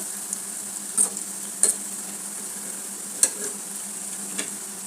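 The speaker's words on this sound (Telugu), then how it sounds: "ఇప్పుడైతే ఈ బజ్జీలు వేసేసుకున్నాం" Gram flour bajjis deep-frying in hot oil, a quiet steady bubbling hiss broken by a few sharp metallic clinks and scrapes of a utensil in the pan, with no voices.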